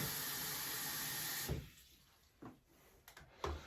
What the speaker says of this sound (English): We'll throw some more water.